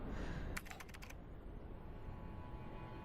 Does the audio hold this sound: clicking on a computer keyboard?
yes